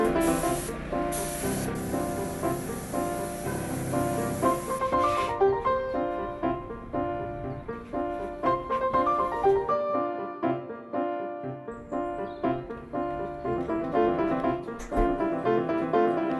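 Spray gun hissing primer and blue-green paint onto a rusty cast iron clock dial at the Brockwell Park clock in Herne Hill: a steady broadband hiss in the opening seconds, with music playing throughout.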